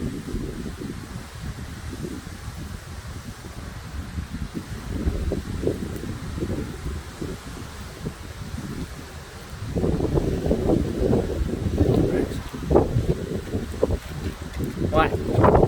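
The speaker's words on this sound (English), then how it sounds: "Oh my God, the wind is up." Strong gusting wind in a severe thunderstorm windstorm in Chestermere, Alberta, roaring steadily against the microphone and surging louder partway through, with people talking over it.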